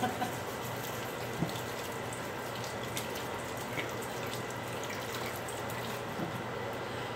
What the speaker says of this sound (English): after I wash my hands again, I like to wash my hands often